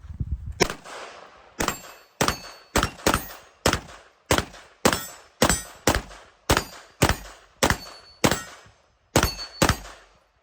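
Pistol rounds of 115 grain remanufactured Callaway Ballistics ammunition are fired at a range: about seventeen loud, close gunshots at a steady pace, each with a ringing metallic tail.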